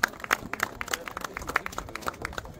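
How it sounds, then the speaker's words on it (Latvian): Applause breaks out for Jānis, winner of a youth fishing competition: scattered, uneven claps from a small outdoor crowd, moderately loud, with distinct individual hand claps popping out over low background chatter. "Apsveicam Jāni, aplausi!"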